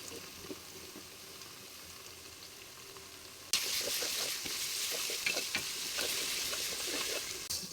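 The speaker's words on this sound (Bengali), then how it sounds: "রসুন পেস্ট দিয়ে দিব এক চামচ আর হচ্ছে আদা পেস্ট দিয়ে দিলাম এক চামচ" Garlic paste and ginger paste hit a pan of hot oil, a quiet background giving way to a sudden loud, steady sizzle with light stirring scrapes, close by and without talk.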